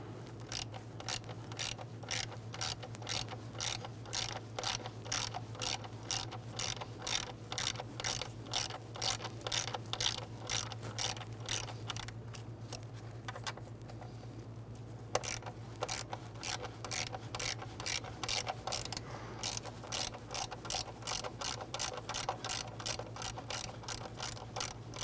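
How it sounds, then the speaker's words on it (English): Rapid ratchet clicking from a hand ratchet backing out quarter-inch screws on the MAP sensor of a 1999-2004 Jeep Grand Cherokee, a long steady run of close, even clicks with a brief pause midway and a low hum underneath. "Go ahead and remove your screws."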